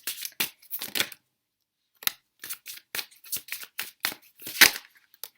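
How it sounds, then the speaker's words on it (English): Tarot cards being shuffled in the hands, a run of short papery riffles and slaps with one brief pause partway through, close and fairly quiet, with no voice over it. "we're going to also shuffle for tarot cards"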